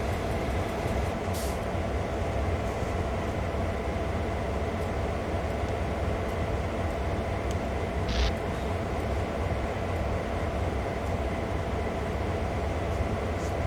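Train rumbling steadily through a rail yard in Train Sim World 2, a continuous dense low drone with faint clanks and a brief higher squeal partway through, no voices.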